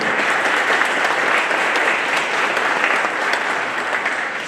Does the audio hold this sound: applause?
yes